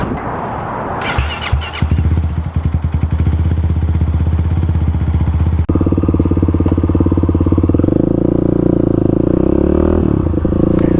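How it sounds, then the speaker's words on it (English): A 35-horsepower Kawasaki KLX351 dual-sport motorcycle engine fires up and revs, its loud, close, buzzing drone climbing and holding in pitch as the bike pulls away, with a brief clatter near the start. "get on the bike, and get on the first ride on, well, the 30 horsepower KLX"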